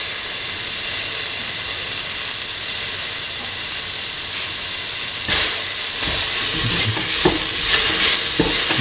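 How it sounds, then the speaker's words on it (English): Tomato pieces are stirred into a sizzling mix of mint, egg and potato in a pan. A steady hiss of frying runs throughout, joined about halfway through by scraping stirring strokes. "Mix the tomato pieces with the rest of the mixture."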